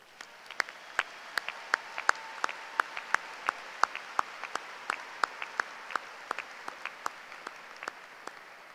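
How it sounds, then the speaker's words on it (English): Applause at a spring university commencement ceremony, a steady run of sharp, evenly spaced claps, distinct and fairly faint, with no one speaking over it. "Graduates, let's give all of them a round of applause."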